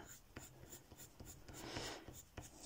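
Quiet, close scratching of a colored pencil on paper in short repeated strokes, soft and steady with no voices.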